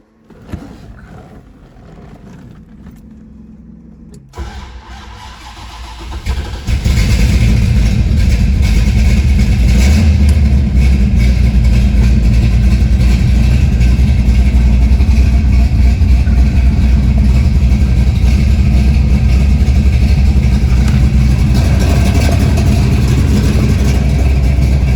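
A 1975 Pontiac Firebird Trans Am with a 455 V8 cranks over and fires after several quiet seconds, then settles into a loud, steady, rumbling idle that holds close and unbroken to the end.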